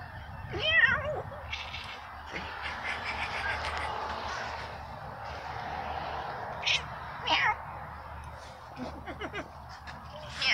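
Cats meow repeatedly at uneven intervals, some calls sharper and louder than others, with soft voices and room noise between them.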